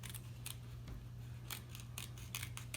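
Scissors snip at the corners of canvas fabric in a quiet room, a handful of faint, crisp cuts spaced irregularly.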